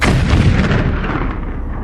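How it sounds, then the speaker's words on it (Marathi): A heavy explosion booms through a forest as a horror-story effect: a loud, deep rumbling blast that rolls on and slowly fades over nearly two seconds. "त्या जंगलात अचानक जबर स्फोटाचे आवाज येऊ लागले"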